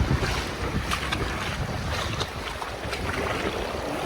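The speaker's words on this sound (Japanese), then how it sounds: "波がこっちに押し寄せてきてるんですよね。" Sea waves surge toward a rocky shore at Manazuru's Mitsuishi in a steady broadband wash, with wind buffeting the microphone throughout and no talk.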